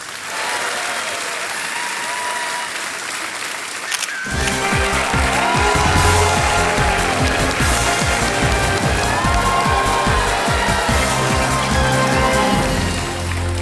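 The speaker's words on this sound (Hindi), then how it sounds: "तालियां बजती रहें इनके लिए" A studio audience on the Kaun Banega Crorepati game show breaks into loud, sustained applause after a quieter opening few seconds, with the clapping continuing dense and close until the end.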